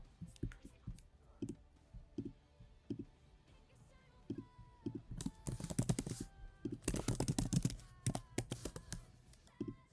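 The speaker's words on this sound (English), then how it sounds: "Sorry if I'm typing loud." Computer keyboard typing during a Fear NA Mixer stream, rapid clicking keystrokes in bursts with some louder heavy presses, close and fairly loud, with a few brief spoken sounds.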